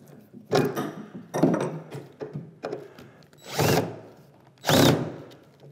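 A nut driver tightening bolts on a wooden workbench, several separate close bursts of ratcheting and turning with short gaps between them, no speech.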